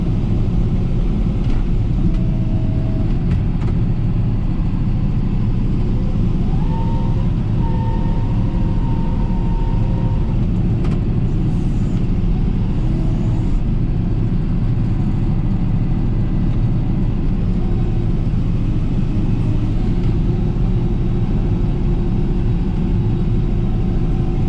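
A tractor engine drones steadily and loudly while it shoves treetops out of a field, a constant low rumble with slight rises in pitch as it works the load.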